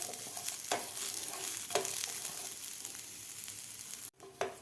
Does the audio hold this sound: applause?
no